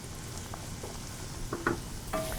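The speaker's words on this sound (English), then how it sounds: "So in the pot right now, we have a little butter. We're gonna render out some pepperoni." Butter with pepperoni, onions and garlic frying in a pot, giving a faint steady sizzle with a few soft stirring clicks and scrapes over roughly two seconds.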